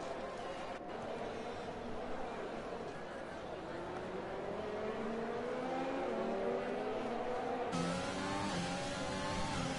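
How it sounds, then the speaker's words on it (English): Ferrari Formula-style race car engine in an F1 racing video game at the Canada circuit, a loud continuous high-revving whine with rising gear sweeps and shifts, steady throughout with faint background voices underneath. "he's pushing that Ferrari to the max"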